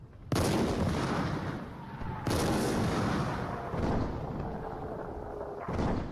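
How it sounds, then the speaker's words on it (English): Artillery shellfire and bursting shrapnel from battleships in a 1915 war setting: three heavy booming blasts with long rolling rumbles, loud and continuous, no voices. "You could really appreciate the beauty of bursting shrapnel."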